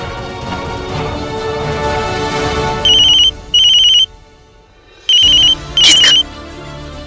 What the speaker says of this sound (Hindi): ये देखो मासी जी का फोन आया है।